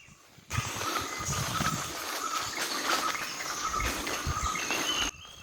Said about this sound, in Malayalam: ഇഷ്ടംപോലെ പക്ഷികളുടെയൊക്കെ സൗണ്ട് കേൾക്കാൻ പറ്റുന്നുണ്ടേ